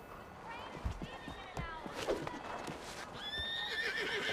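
Horse neighs and whinnies in a video game, with a clip-clop of hooves and a second bright whinny near the end, heard over a busy game soundscape with brief talk.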